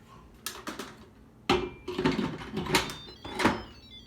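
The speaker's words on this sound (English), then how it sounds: "And we'll set the timer for about 35 minutes." Buttons pressed on a kitchen oven to set a timer, a series of sharp plastic clicks and taps in an uneven rhythm, close and fairly clear in a quiet room.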